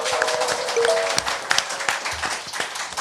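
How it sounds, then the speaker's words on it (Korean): A studio audience bursts into applause on the set of a Korean current-affairs talk show, a dense, steady wash of clapping that carries evenly for about three seconds. "여러분의 힘찬 박수와 함께 시작하겠습니다"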